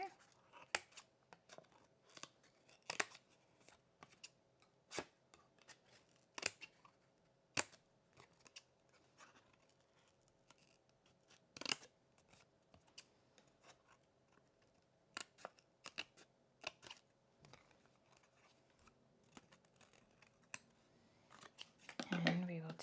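Snips of scissors cutting paper for scrapbooking with a Paige Evans cut file, quiet intermittent clicks scattered across the span, faint talk underneath and a louder rustle at the end.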